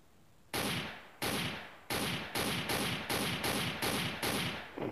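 Gunfire in the game Vast: a rapid series of about nine loud, sharp shots, the first few spaced out and the rest quickening into a steady, close rhythm.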